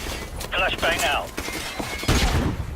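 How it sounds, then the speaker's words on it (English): A flashbang grenade in Call of Duty Modern Warfare Remastered goes off with a sharp bang near the end, after voices speak over quieter gunfire. "Flashbang out."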